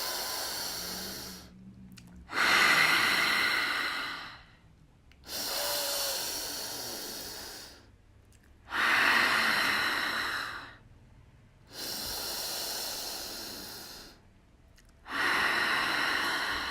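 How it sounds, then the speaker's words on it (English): Four deep breathing cycles at a calm pace, each a long nasal inhale followed by a forceful open-mouthed "ha" exhale, close and clear with brief quiet gaps between breaths during a relaxation exercise. "take a big inhale by your nose and exhale to the sound of ha with your exhale."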